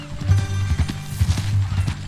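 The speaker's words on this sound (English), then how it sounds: "That a new horse?" Horse hooves clip-clop in Red Dead Redemption 2, a close, rhythmic run of hoofbeats on ground lasting a couple of seconds with no talk over them.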